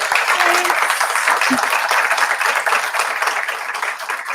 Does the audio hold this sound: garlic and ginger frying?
no